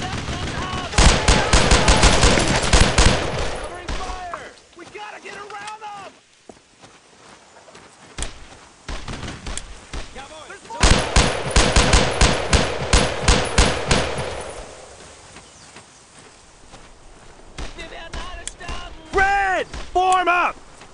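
Rapid automatic gunfire and rifle shots in Brothers in Arms: Road to Hill 30, loud dense bursts in two main volleys with scattered shots between, voices shouting amid the shooting.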